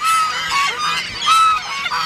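Geese honk loudly and repeatedly in a noisy, overlapping flock, close by, with harsh calls rising and falling across the whole stretch while they are fed bread.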